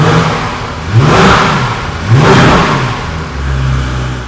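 Porsche 911 GT3 RS with its exhaust button switched on, the engine revved sharply twice in quick succession, each blip rising and falling, then settling to a deep idle rumble, loud and close.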